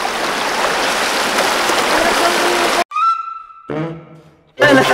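Strong river current rushing steadily at a river crossing near Kaputian Falls, Borongan City, loud and continuous for about three seconds before cutting abruptly to quieter passages with voices and other sounds.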